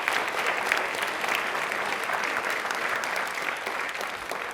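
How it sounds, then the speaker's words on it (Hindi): Steady, loud applause from a studio audience at a televised Hindi quiz show, continuous clapping for the full length with no speech over it. "एक बार तालियां इनके लिए और हम सब के लिए जोरदार होनी चाहिए।"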